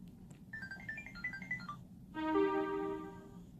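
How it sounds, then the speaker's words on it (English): A phone chimes the Carrot app notification, a short run of bright electronic bings and boops followed by a sustained, richer tone, alone and fairly quiet. "I love the notification."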